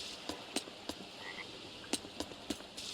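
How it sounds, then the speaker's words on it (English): A frog croaking in the Tales of Berseria video game: a series of sharp, clicky croaks in an irregular rhythm, about eight pulses over a few seconds, quiet and alone with no talk. "So, did this skinny frog win?"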